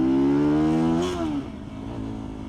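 A Mamba Jumbo motorcycle engine drones loudly and rises in pitch as it accelerates, then drops off and falls back to a lower, rougher running note.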